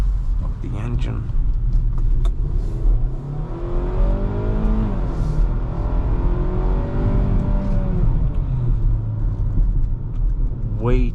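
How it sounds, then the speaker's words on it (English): A 2025 Hyundai Tucson SUV engine roars as it accelerates hard, its rumbling tone rising in pitch, with a voice speaking over it at times. "I will accelerate a bit hard now here, so you can hear that sound of the engine."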